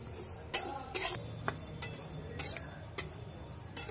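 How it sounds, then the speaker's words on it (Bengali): Mung dal is lightly dry-roasted in a pan, with faint, sparse clinks and scrapes of a spatula stirring the lentils at irregular intervals over a quiet background. "হালকা করে ভেজে নিচ্ছি মুগ ডালটা।"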